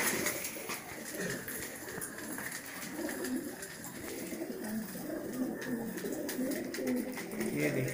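An old Malwai pigeon, about twenty years of age, coos faintly in a low, continuous murmur under a steady background hum.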